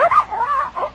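A human voice imitating a koala bear barking during a storytelling, giving a brief warbling, whooping yelp with a couple of rising and falling calls, close and fairly loud.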